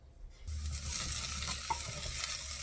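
Steady close sizzle of chopped carrots and other vegetables sautéing in a pot for creamy chicken soup, a soft continuous frying hiss starting after a brief silence, with faint stirring taps.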